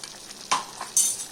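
Chicken is stirred in a pan with a ground ginger, garlic and pepper paste, giving a few scraping strokes and soft clatters over a quiet sizzle, close and distinct.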